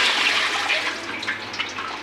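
Water runs strongly from a tap while cut potatoes are washed, a continuous close splashing rush with no speech.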